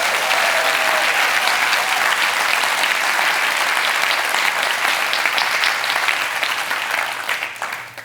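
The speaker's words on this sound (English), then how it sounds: "so please give them a round of applause." An audience at a live show in Seattle bursts into loud, sustained applause that carries on for several seconds before tapering off near the end.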